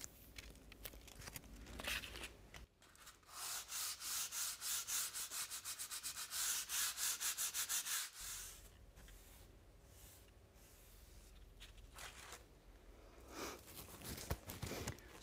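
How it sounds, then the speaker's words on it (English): Medium grade sandpaper rubs by hand over dry polyfiller in quick, rhythmic back-and-forth strokes, loud and close, with quieter scraping before and after the main run. "give it a light rub down. And I'm going to do that with a medium grade sandpaper"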